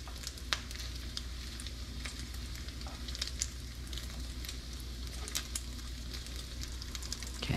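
Bacon frying in rendered fat in a pan, a quiet, steady crackling sizzle with scattered pops and faint utensil clicks near the end, no voices.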